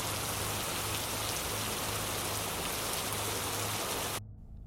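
Steady heavy rain pounds on a boat as a dense, continuous hiss of drops striking the surface, then cuts off abruptly near the end.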